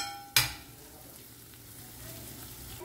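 Dried red chillies and green chillies frying in a pan over a high flame, a sharp clatter as they hit the oil, then a steady quiet sizzle carrying on underneath without any talk.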